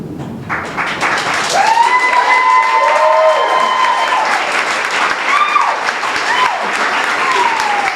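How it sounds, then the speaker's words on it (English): Wedding guests applaud the newly married couple, a dense, loud round of clapping sustained throughout, mixed with a few cheers and high whoops from the crowd. "Please stand and applaud and help me in honoring the married couple."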